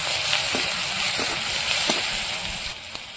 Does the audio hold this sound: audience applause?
no